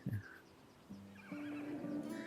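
A foal whinnies in the VR horse racing game Rival Stars Horse Racing VR Edition, a short burst followed by a longer, rising neigh that sounds close and clear.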